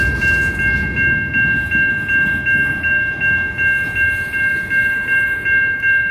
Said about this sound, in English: the train's moving pretty good now